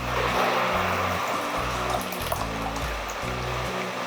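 Pigeon pea (toor dal) lentil water pours steadily into a pot of pineapple rasam, a continuous close splashing and trickling with no talking.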